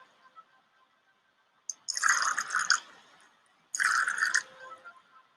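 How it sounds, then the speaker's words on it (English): Salt solutions are poured over potato strips in two short bursts of splashing liquid, separated by a quiet pause, with faint drips before. "Once the solutions are ready, pour them in to immerse the potato strips."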